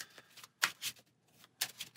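Several quick riffle-shuffles of a deck of cards for the Marvel Champions Mad Titan's Shadow board game, crisp close ripping bursts separated by short pauses.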